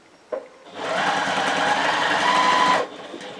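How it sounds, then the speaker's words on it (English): A sewing machine runs in one steady close burst of about two seconds, top stitching a zip onto a fabric pouch pocket, with a soft click before it starts and quiet after it stops. "So that's attached the zip to our pouch pocket, so I'm going to top stitch that."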